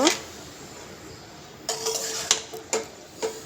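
Several sharp metallic clinks of a lid or utensil against a pot of potato and chickpea curry as water is added and it is covered, spaced irregularly over a low steady background hiss.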